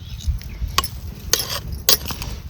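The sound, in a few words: stirring cooked pavta (field bean) rice in a pot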